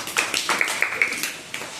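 Children clap in a classroom activity, a quick burst of several sharp, loud handclaps in uneven succession, close by.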